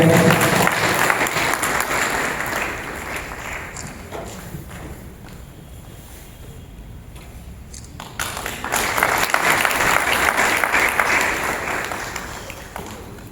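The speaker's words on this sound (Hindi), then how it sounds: "जोरदार ताली बजाकर आप स्वागत करें" A crowd at a Hindu religious gathering for a Gayatri ceremony claps loudly to welcome someone, with two strong waves of applause separated by a quieter lull in the middle.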